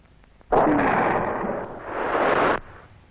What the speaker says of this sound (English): The RPG-7 being fired.